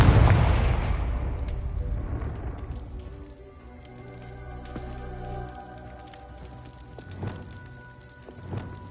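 A Confringo spell explodes in the Hogwarts Legacy video game: a loud, close boom opens the scene and fades into a long rumbling, crackling decay, with a couple of fainter thuds later.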